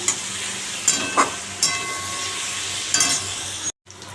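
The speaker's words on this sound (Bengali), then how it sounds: "ভাজা ভাজা করে দিলাম ক্যাপসিকাম কুমড়ো রাঙালু তারপরে চিচিঙ্গা সব একসাথে দিয়ে হয়ে গেছে" Capsicum, pumpkin, sweet potato and snake gourd frying together in a pan give a steady close sizzle with scattered stirring clatters, cutting out abruptly near the end.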